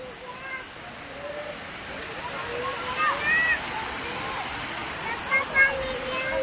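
A steady rush of running water in a zoo penguin enclosure fills the background, with people talking and calling out over it.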